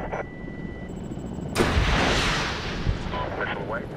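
A missile launches and explodes in the 2010 Medal of Honor video game during a helicopter gunship mission: a sudden loud roaring blast swells into a sustained rumble, then another thud, over constant engine drone.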